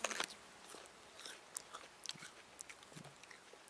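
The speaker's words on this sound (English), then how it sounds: "And I'm just chewing it to get some water out of it." Someone bites and chews a raw starchy bulrush root pulled from the ground, giving close, quiet crunching and wet chewing clicks in irregular bursts.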